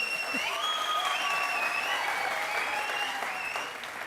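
A TV talk show studio audience claps steadily and loudly throughout, with a few whistle-like tones mixed into the ovation.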